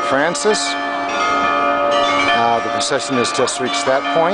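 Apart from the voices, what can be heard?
church bells ringing during procession in San Giovanni Rotondo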